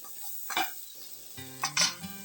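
Ground spice paste is stirred into potatoes frying in a pan: a soft sizzle under two brief bursts of spoon scraping and clinking, close by and without speech.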